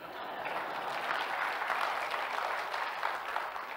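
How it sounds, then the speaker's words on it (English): A church congregation applauds after a pastor introduces his wife of 34 years, with steady, dense clapping from many hands filling the room evenly, close and moderately loud throughout. "You can clap if you want."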